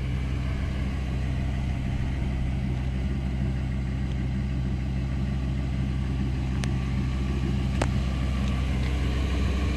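A Ford Econoline E350 van with a V10 engine idles at a steady, continuous low rumble, with no speech and only a couple of faint brief clicks partway through.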